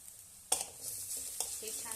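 Onion with crushed ginger and garlic sautés in a pan, giving a soft sizzle under two sharp scrapes of a spoon stirring the mixture.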